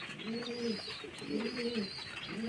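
Madras pigeons coo softly in repeated low, rolling phrases, faint and steady against quiet background noise.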